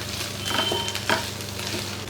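Minced keema meat sizzles in a pan at home, a steady broadband frying hiss with a couple of sharper stirring scrapes, close and moderately loud with no talking.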